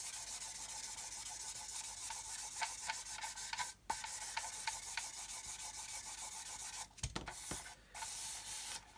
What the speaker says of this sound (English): if you're thinking, wow, that's a lot of sanding